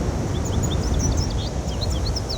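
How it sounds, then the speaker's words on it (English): American goldfinch calls in the video game Skyrim, set in a pine forest: faint, scattered high twittering notes drifting over a steady wash of ambient forest noise, with no voices. "American goldfinch"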